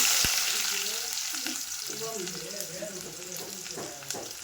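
Onion frying in a pan with oil, a soft continuous sizzle with light stirring scrapes, close but fairly quiet, with faint murmuring in the background.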